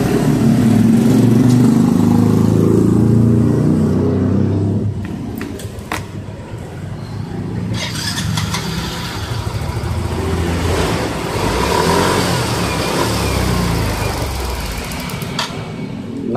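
A Yamaha Mio scooter engine, faulty and cutting out when throttled, runs loud and rough for about four seconds, then drops to a quieter, uneven sputter with intermittent bursts of noise, as though stumbling and dying under throttle.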